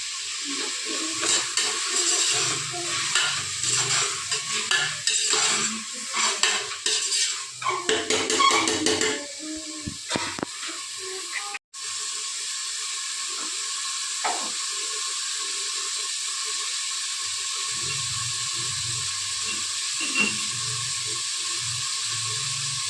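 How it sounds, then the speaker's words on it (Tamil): Chicken biryani masala sizzling in a pot over a high flame, a steady broadband hiss with clattering pot and utensil knocks in the first half, then settling into a continuous even sizzle with no talking. "நல்லா ஹை ஃப்ளேமில் வச்சு நல்லா இதை வந்து கொஞ்சம் நல்லா வெந்து வரட்டும்"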